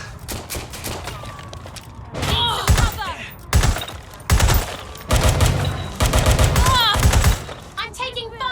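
Rapid gunfire in Watch Dogs Legion: dense bursts of automatic fire and thudding impacts crackle in clusters across the scene, loud and close, with shouting voices mixed in between volleys.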